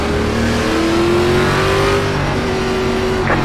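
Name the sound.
race car engines revving in ARCA racing video game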